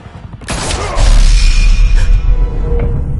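Gunfire in a Batman film scene, a sudden loud burst of shots that crashes in and rolls into a sustained, echoing clatter of rapid fire and impacts.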